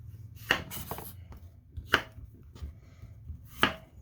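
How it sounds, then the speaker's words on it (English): Three sharp knife chops through onion on a cutting board, evenly spaced about every second and a half, close and distinct against a quiet room background. "we're going to chop up some onion"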